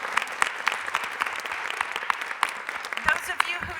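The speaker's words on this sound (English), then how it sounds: "I do want to just give a quick round of applause to Charlie" Listeners at an ocean-science speaker talk give a brief round of applause, close, crisp individual claps forming a moderate, uneven patter.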